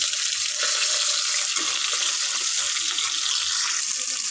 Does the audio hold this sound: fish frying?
yes